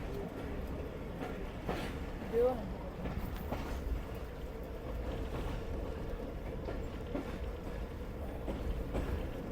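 Train leaving the platform at Gojra railway station, a low steady rumble with faint wheel clatter and a brief squeal heard from inside the carriage at moderate volume.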